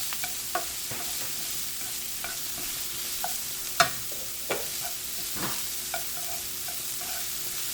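Onions and sausage sauté in a pan for stuffed portabella mushrooms, giving a soft, steady sizzle with scattered clicks and scrapes from stirring, one sharper knock near the middle.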